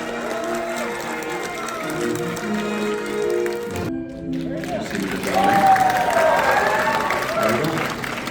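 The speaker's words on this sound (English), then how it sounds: "you get the loud cheers and the applause and everything" An audience at a Skywalker movie marathon on May the 4th breaks into applause and cheering that swells after a pause. The crowd noise sits under film sound and voices.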